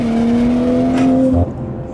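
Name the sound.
tuned BMW 540i G30 accelerating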